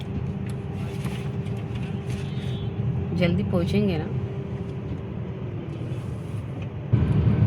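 Heavy road traffic on a morning drive out of Thane: a steady engine and road rumble from inside a car, with a horn sounding in the middle and a person speaking briefly over it.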